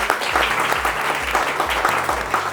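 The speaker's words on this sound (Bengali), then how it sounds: "আমরা সুন্দর ট্রেনিংয়ের জন্য ট্রেনার মহোদয়ের জন্য একটা বড় করতালি দেই" Loud, dense applause from an audience, continuous clapping filling the room throughout.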